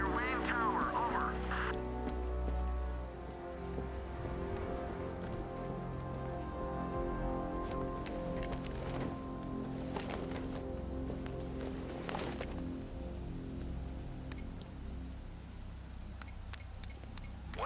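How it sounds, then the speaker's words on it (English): Steady rainfall in the video game Batman Arkham Knight, a faint continuous patter running throughout beneath sustained tonal music and occasional voices. "What's with all the rain?"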